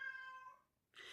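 Cat giving a single short, faint meow that fades out, followed by a brief hiss of background noise.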